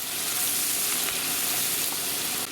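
Seasonings being stirred into retro Thanksgiving stuffing in a hot pan, a close, continuous frying sizzle with faint scraping of the stir, steady and unbroken, no talking.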